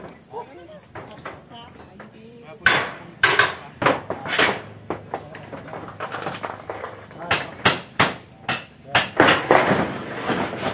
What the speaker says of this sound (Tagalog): Nilibago ako sa martilyo.